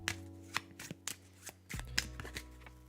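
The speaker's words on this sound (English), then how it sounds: "okay, these feel kind of shuffled." Playing cards for the Brass Birmingham board game are riffled and shuffled at a table: several short, crisp bursts in a steady rhythm, close and clear, with faint music or tones humming underneath and no talk.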